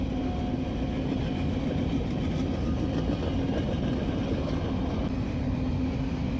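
A 99-car empty Union Pacific grain train rolling past, a steady broad rumble with faint wheel clatter that holds at an even level throughout.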